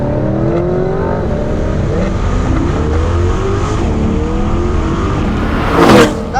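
A 2020 Corvette C8 Z51 accelerating hard from inside the cabin: a loud engine roar climbs in pitch through several quick, repeated gear shifts, ending in a brief louder rasp.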